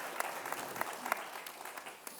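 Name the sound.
audience applause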